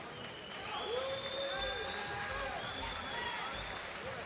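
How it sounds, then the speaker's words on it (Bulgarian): Fans at a boxing bout fought in MMA gloves in Stara Zagora applaud and murmur steadily as a crowd, with voices talking over the clapping throughout. "Така че заслужени аплодисменти от феновете в Стара Загора."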